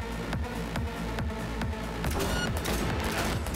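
In Cyberpunk 2077, gunshots hit in an even rhythm, about one every half second, over a low game soundtrack, then blur into a denser, noisier stretch toward the end.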